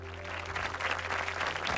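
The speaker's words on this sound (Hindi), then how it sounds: "एक बार जोरदार ताली आबिद सर के लिए हो जाए गाइस" Audience at a vegan earth festival in Mumbai applauding author Abid Surti, a steady burst of dense clapping that fills the short moment, loud and continuous with a low hum underneath.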